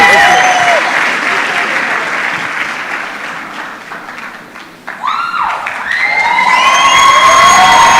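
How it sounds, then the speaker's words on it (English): Crowd applause and cheering at an award ceremony during the Kenya National Research Festival 2024, loud and dense at first, easing in the middle, then swelling again, with whistles or sirens and voices mixed in. "Round of applause for Joytown."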